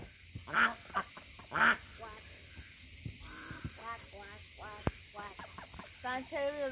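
Ducks quack in loud bursts, a few close harsh calls followed by quicker chattering quacks, with a sharp click partway through and no talk.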